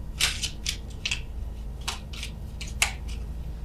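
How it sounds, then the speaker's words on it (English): Tarot cards being shuffled slowly by hand, a series of short crisp papery riffles and slaps in an irregular rhythm, close and fairly clear over a low background hum, with no talking. "apologies for the shuffling here"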